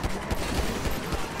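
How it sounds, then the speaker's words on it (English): Rapid, continuous automatic gunfire in GTA V rattles throughout, dense and fairly loud with a rhythmic pattern of shots. "Gunshots"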